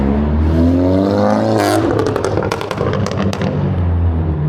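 Road traffic passes close by on a roadside in Chelsea, London, near Cheyne Pier: a car engine swells and rushes past, followed by rattling clatter, with a constant low hum throughout.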